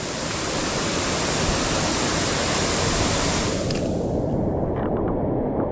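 Mountain waterfall on the climb up Mount Wolf, New Hampshire, roaring as a loud, steady broadband rush of falling water close by, continuous throughout with no voices over it.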